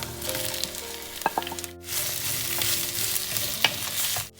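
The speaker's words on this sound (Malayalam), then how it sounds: "ഇനി നമുക്ക് അതിലേക്ക് ഉള്ളി ചേർത്ത് കൊടുക്കാം." Onions sizzle and fry in a pan with ginger, garlic and green chili for a crab roast, a dense close crackle with occasional stirring clicks and a brief lull before the sizzle resumes.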